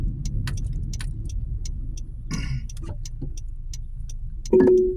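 Steady low road rumble inside a moving car, with light ticking clicks throughout and a short electronic tone near the end.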